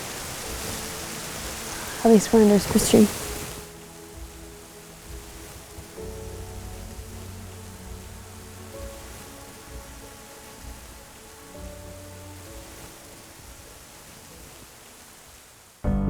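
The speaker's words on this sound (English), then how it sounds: "It's starting to rain harder and harder." Rain falling on a forest canopy during a black bear hunt in Alberta, a soft steady hiss beneath a brief spoken line and scattered drips, with a few louder knocks near the start.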